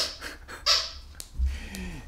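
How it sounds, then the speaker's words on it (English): Dog playing with a new toy, close-up snuffling, panting breaths and short squeaky bursts in an uneven rhythm, moderately loud with no talking. "that's my dog with his new toy"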